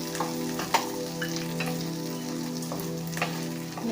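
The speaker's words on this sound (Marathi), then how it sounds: "1 मिनिटभर तरी अजून मला असंच मस्तपैकी फ्राय करायचं, असं हलवत राहायचंय" Tomatoes fry in hot oil for peas pulao, a steady close sizzle broken by a few sharp scrapes and clinks of a spoon stirring the pan, with no voices.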